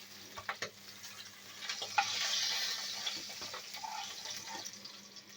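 Fish head frying in hot oil, a soft crackling sizzle under occasional clinks and scrapes as it is turned over in the pan, fairly quiet and close.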